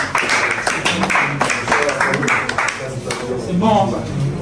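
A crowd at a fashion contest in Pointe-Noire, Congo, claps and cheers in a loud continuous burst, with voices talking over it.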